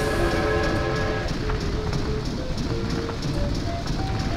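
A train rolls along in Banjo-Tooie, a steady rumbling, clattering run with faint tonal whistle-like lines above it, continuous and fairly loud throughout.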